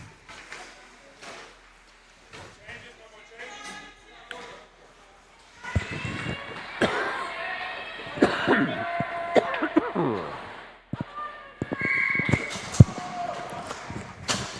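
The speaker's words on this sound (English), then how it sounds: "So apologies for those little coughs every once in a while." Repeated short coughs from an ice hockey commentator at a cold morning rink, scattered between stretches of play-by-play talk, close to the microphone and fairly loud.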